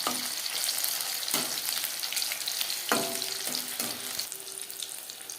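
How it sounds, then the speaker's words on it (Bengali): Paneer pieces frying in hot oil over a medium flame, a steady close crackling sizzle with occasional louder bursts and spatters as pieces shift in the pan, no voices. "হাই ফ্লেমে তেল আমি গরম করে নিয়েছিলাম, ভাজবো মিডিয়াম ফ্লেমে"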